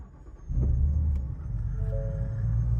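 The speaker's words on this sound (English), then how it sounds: "Starts up just fine." A Ford Mustang running on E85 fuel cranks and fires up, its engine catching after a brief starter whirr and settling into a deep, steady idle rumble close by.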